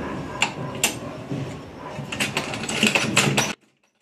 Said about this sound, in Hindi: अब साइड सिलाई लगा लिया मैंने